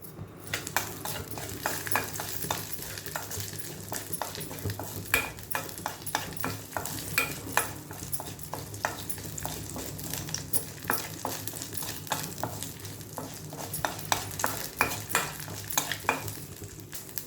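Cumin, fenugreek, mustard seeds and a piece of chili frying in melted ghee for a tempering, a steady close sizzle with continuous spoon stirring and metal scraping against the pan throughout.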